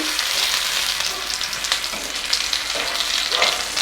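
Fish frying in oil on a flat griddle, a Tamil-style fish fry, gives a steady, dense sizzle with small crackles and pops throughout, close and fairly loud with no talking.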